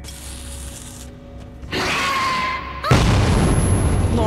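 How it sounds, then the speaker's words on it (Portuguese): A tripwire trap detonates in Metro 2033, a sudden broadband boom bursting in around the midpoint and then a louder, sustained blast with rumbling debris that fills the rest of the moment. "A armadilha detonou, o bicho ficou preso."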